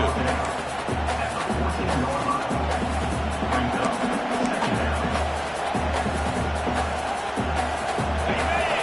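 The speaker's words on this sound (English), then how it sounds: "And the crowd coming to life here, trying to help this defense down in the red zone." Stadium crowd roaring in the College Football 26 video game during a Penn State drive in the red zone, a steady swelling wall of cheering and babble under a play-by-play commentator.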